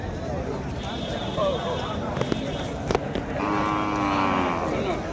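Cattle lowing at a busy livestock market near Tiruvannamalai, with several drawn-out moos rising above a dense crowd murmur and voices, plus scattered knocks and clatter from the fairground.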